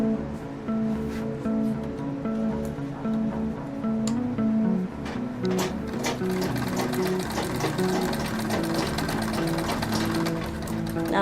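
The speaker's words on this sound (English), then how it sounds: "I close it and I'm stitching it. Stitching means to tie the mouth from losing and from the ropes coming out." A sewing machine stitches the mouth of a sack closed, a fast rattling mechanical chatter that runs steadily and close up with brief pauses and shifts in pace.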